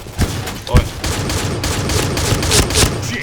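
Rapid gunfire and heavy shotgun blasts from the online shooter Point Blank ring out in dense, near-continuous volleys, with a few louder, sharper shots punching through the steady barrage.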